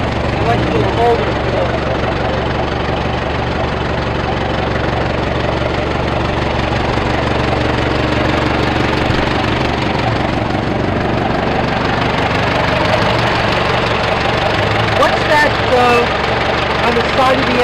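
A 1912 antique engine idles steadily at a Cars & Croissants car show in Florham Park, NJ, a low continuous rumble with even mechanical knocking, close by and constant, with faint voices around it.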